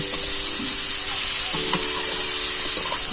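Banana flower and crumbled boiled potato frying in a pan while being stirred, a loud, dense, steady hiss of oil with a few soft stirring scrapes beneath, close up and without voices.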